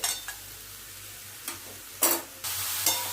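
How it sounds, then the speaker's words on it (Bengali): Grated coconut filling and melting jaggery being stirred in a pan, quiet low sizzling broken by several short scraping strokes of a spoon, no one speaking. "এবার এটাকে নাড়িয়ে নাড়িয়ে পাটালিটা গলা পর্যন্ত যেভাবে আমরা পুরটা বানাই সেভাবে বানিয়ে নেব"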